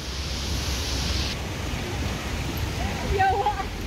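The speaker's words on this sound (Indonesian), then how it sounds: "Waterfall atau kayak air terjun, bukan air terjun ya, ini kayak air apa ya, tapi ya mungkin semacam air terjun" Artificial waterfall in Hong Kong Park spilling down a series of steps, a steady broadband rush of falling water close by, with a few faint voices surfacing near the end.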